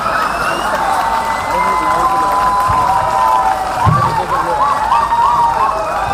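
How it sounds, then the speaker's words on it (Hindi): A live comedy show audience in Haryana applauds and cheers, a dense, steady roar of clapping and crowd noise with whistle-like cheers running through it from start to finish. "जोरदार तालियां इस कार्यक्रम के लिए जो हरियाणा में हो रहा हो।"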